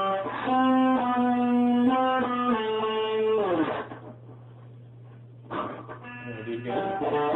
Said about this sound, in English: That's how you play the McDonald's jingle.